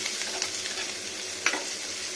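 Ridge gourd and onion fry in a pan with a continuous hissing sizzle, broken by a few soft scraping stirs that stand out briefly over the steady crackle.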